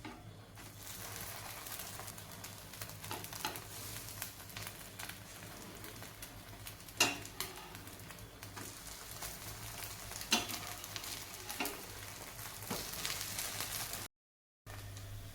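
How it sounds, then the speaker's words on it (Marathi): A flipped rice-based snack fries on its second side in a little oil, making a continuous soft sizzle with occasional louder pops and scrapes. It ends with a brief silent gap. "आता हा नाश्ता पलटवून दुसऱ्या साईडने पण आपण छान असा भाजून घेऊयात"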